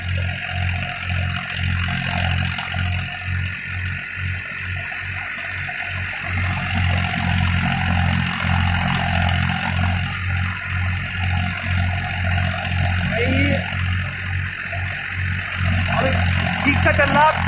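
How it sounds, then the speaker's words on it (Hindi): A Farmtrac 45 tractor drives a thresher, its engine thudding in a steady low rhythm close to the silencer, with a continuous mechanical whir and rattle from the thresher layered on top. "अब बिल्कुल साइलेंसर के सामने आ गया, यहाँ से आवाज ट्रैक्टर की"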